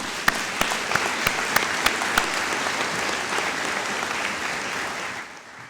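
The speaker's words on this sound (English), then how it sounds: "Please give them a round of applause." Sustained applause from a large audience at a commencement ceremony, opening with a few sharp individual claps before a dense, steady wash of clapping that fades out at the end.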